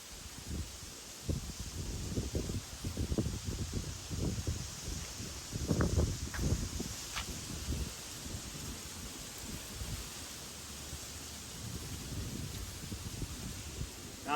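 Wind buffets the microphone in loud low rumbling gusts, steady throughout with a few stronger bursts, outdoors with no voices.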